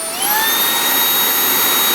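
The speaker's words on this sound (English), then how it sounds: "You hear this thing running here's full speed." An APOSEN cordless vacuum cleaner spins up and runs at full speed indoors, a steady loud whine with rising high-pitched motor tones that settle into a constant hum, heard alone.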